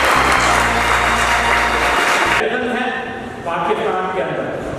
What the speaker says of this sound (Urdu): حاضرین محفل نے پرجوش انداز میں تالیاں بجا کر انہیں داد دی۔